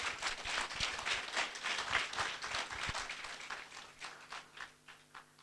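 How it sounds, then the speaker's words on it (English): Audience applause at a public lecture during an innovation week event, a dense patter of many hands clapping that thins and fades toward the end. "Can you please clap for them and thank God?"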